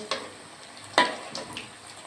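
Aloo chop, battered potato patties, frying in hot oil as each is flipped, a soft bubbling sizzle broken by a few sharp splashes and clicks of the turning utensil.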